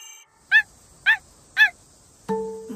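A puppy in a video game gives three short, evenly spaced whimpering yips, each clear and close, followed by a steady electronic game tone.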